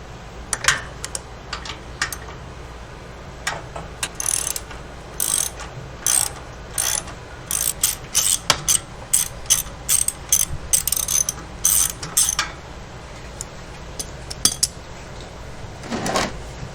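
A ratchet clicks in quick repeated bursts while undoing a bolt on a 675NK motorcycle's stock exhaust, the sharp ratcheting strokes coming in irregular runs with short pauses between them.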